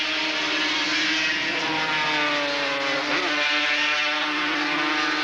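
Racing machines at speed on the Surfers Paradise circuit in a 1982 race, hitting about 140 miles an hour. A loud, continuous engine roar fills the whole stretch with a shifting pitch, and no talk is heard.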